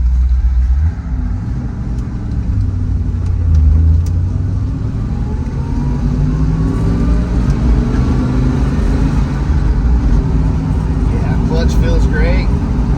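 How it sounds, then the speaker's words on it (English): A 1968 Shelby GT350 with a factory four-speed gearbox settles from gear changes into a steady, fairly loud low idle rumble heard from inside the car, the engine note dropping and leveling off. "Car comes to a nice idle."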